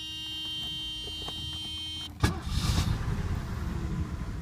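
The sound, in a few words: Mercedes started with push-button start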